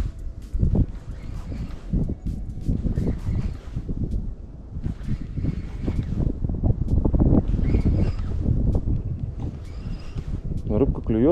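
Wind gusts across a riverbank during a summer pike-fishing outing, a steady, rough rumble of buffeting noise that fills the whole stretch at close range.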